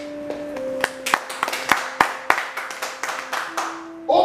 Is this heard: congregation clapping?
yes